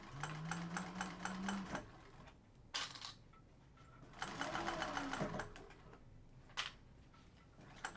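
Sewing machine stitching binding onto a bag, running in rapid mechanical bursts with short pauses between runs, close and clear with no talking.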